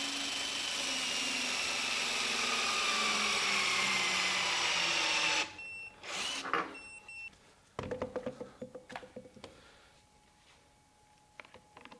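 A Milwaukee M12 FUEL Stubby 2554 impact wrench whirs loudly for about five seconds, its pitch sweeping, then cuts off and gives way to a few sharp clicks and clunks as it is handled.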